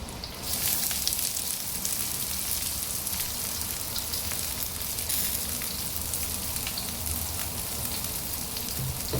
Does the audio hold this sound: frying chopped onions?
yes